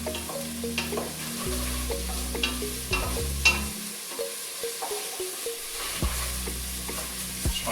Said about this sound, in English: that garlic hits that heat